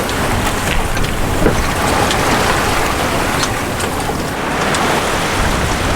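Sailboat running downwind on gentle rollers, a continuous rush of wind and water hiss around the hull with soft splashes, fairly loud and close, no talking.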